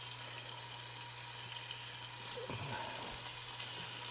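Food for moose stew sizzles and crackles in a pan, a soft steady hiss with a low hum underneath and a brief clatter partway through.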